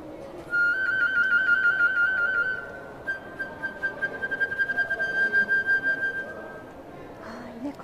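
A flute imitates small birds chirping in a phrase from a song, played with double tonguing: a sustained high whistling tone, then rapid fluttering trills, heard at moderate volume over a soft background murmur.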